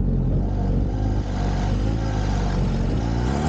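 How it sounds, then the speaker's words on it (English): A motorcycle engine on a moto gymkhana course in Japan runs loud and close without a break, its tone swelling slightly as the rider accelerates around the cones. No voices are present. "You can hear the sound of the engine."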